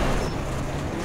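Rally car from Richard Burns Rally, a 2005 game engine, driving on a gravel stage, giving a steady broadband rumble of engine and loose surface noise with no pauses or talk.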